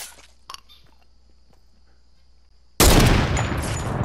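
Close, loud burst of gunfire from a heavy sniper rifle in a Fortnite Battle Royale match, erupting abruptly after a quiet stretch and ringing on in a sustained roar of reverb.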